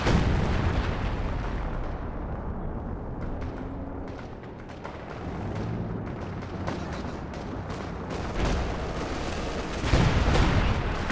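Artillery and gunfire trade back and forth in the video game Company of Heroes 2, scattered booms and pops at a moderate distance with a heavier blast near the end.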